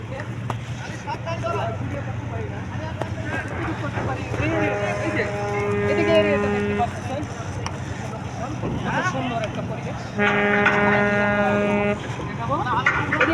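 Ferry crossing the Meghna river, a steady low engine drone running throughout with two long tonal horn blasts sounding mid-clip and again near the end, amid crowd chatter.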